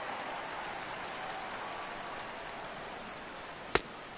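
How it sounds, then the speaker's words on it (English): Heavy rain falls in MLB The Show 17 as a steady, even hiss of downpour that runs unbroken throughout. A single sharp crack cuts through near the end, and nobody talks. "that rain is really coming down right now"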